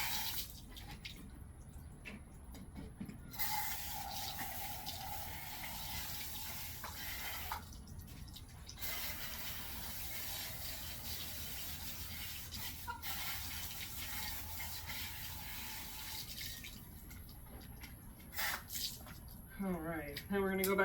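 A water sprayer rinses a Goldendoodle during a grooming bath, giving a steady close hiss of spraying and splashing water that runs almost continuously with a few brief breaks, while a person talks over it.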